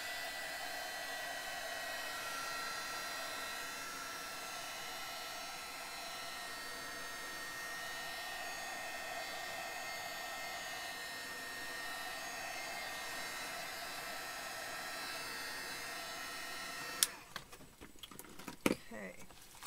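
A heat gun or hair dryer blows steadily to dry pouring medium on an art journal page, a constant close whooshing hum that runs unbroken before a few clattering knocks near the end.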